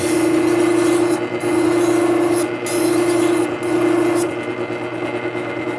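Steel cabinet scraper being sharpened for archtop guitar work, swiped repeatedly along an abrasive to raise a burr, giving four steady, close rasping strokes with short pauses between them and no talk.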